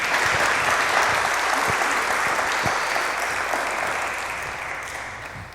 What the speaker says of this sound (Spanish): ¿Cuántos dan un aplauso al Señor por la vida del hermano?